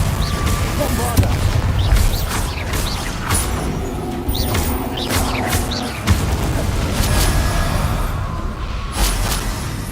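Repeated booming blasts of the Bombarda explosion spell in the video game Hogwarts Legacy, loud thumps spaced through continuous game noise, with a voice talking over them.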